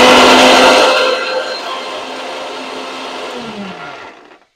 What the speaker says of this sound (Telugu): ఈ మూడు కలిపి మిక్సీ పట్టుకోవాలి